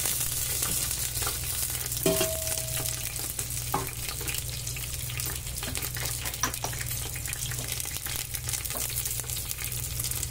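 Peanuts and green chillies frying in hot oil for a tempering, a steady crackling sizzle with occasional stirring clinks and scrapes, close and continuous.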